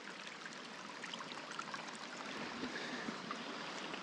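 Rainwater runs along a ditch on a flooded ranch after heavy rain, a steady close rushing and trickling flow that continues without talk.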